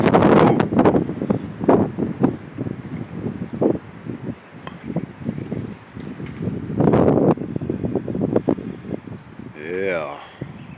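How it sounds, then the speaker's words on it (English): Gusty outdoor wind buffets the microphone in uneven bursts of rumbling noise, rising and falling, with a voice talking at times. "is this wind really starting to pick up?"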